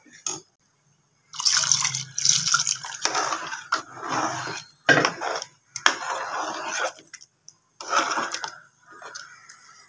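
Water is poured into sambar in bursts, splashing and gurgling loudly and close, with short pauses between each pour.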